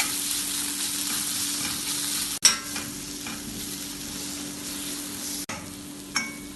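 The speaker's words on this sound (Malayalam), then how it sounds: "1/4 ടീസ്പൂൺ കസൂരി മെത്തിയും ചേർത്ത് എല്ലാം കൂടെ ഇളക്കി വഴറ്റാം" Spices with a quarter teaspoon of kasuri methi, chili powder and asafoetida sauté in hot oil for dal tadka, a steady close sizzle broken by two sharp scrapes of a spoon stirring the pan, with no talk.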